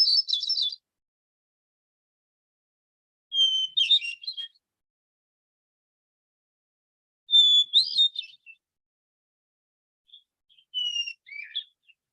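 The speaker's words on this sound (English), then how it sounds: "hermit thrush." A hermit thrush sings four separate phrases spaced a few seconds apart, each a clear, high, fluting run of notes with silence in between, heard alone and fairly close.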